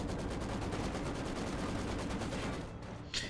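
A Maxim machine gun fires in the Company of Heroes 2 strategy game, a dense, continuous rattle of rapid shots that holds steadily for about three seconds before a brief sharper burst at the end.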